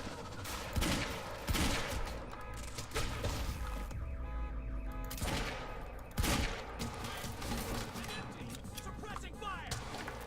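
Gunfire in the video game Quantum Break, with dense bursts of shots and impacts over a noisy combat scene, loud and continuous with sharper blasts throughout.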